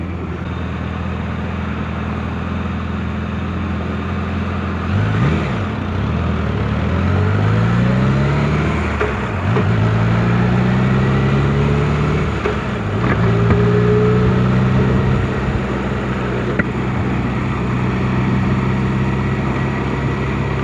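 A motorcycle rides over milled pavement, its engine droning steadily with rising and falling revs and constant road rumble, loud and close, with no talk.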